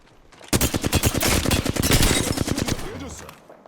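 Rapid automatic gunfire in the video game Apex Legends, loud and close, a steady stream of shots lasting about two and a half seconds before fading out.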